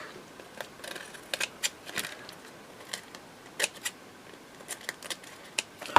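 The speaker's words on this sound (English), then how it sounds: "let's just trim off the edges at the back" Scissors snip along the edges at the back of a handmade ring bound journal on a cluttered desk, a string of short, crisp cuts in irregular rhythm, close and fairly quiet over faint room noise.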